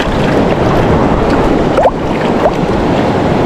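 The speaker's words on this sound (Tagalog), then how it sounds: "Malaki pa ang alon." Big sea waves wash against a Philippine shoreline, a loud constant rumbling surge mixed with wind buffeting the microphone, with a couple of faint high chirps in the middle.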